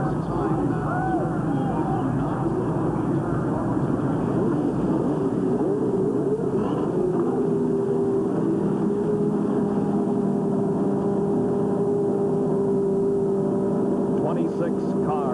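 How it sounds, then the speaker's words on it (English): Twenty-six CART race car engines at Portland in 1988 start and rev together, droning steadily with rising and falling tones, while voices carry over the noise. "26 cars roar to life."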